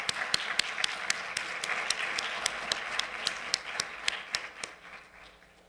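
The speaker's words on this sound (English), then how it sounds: "Let's give him a big round of applause." Clapping from an audience at an economics colloquium in 2008, a steady wash of many hands with sharp individual claps standing out, filling the room and fading toward the end.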